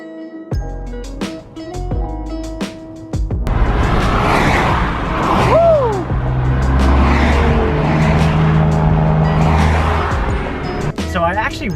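Turbocharged 2018 BMW E36 accelerating on the road, its engine droning loudly and steadily with rising and shifting tones, heard from inside the car while a person talks over it.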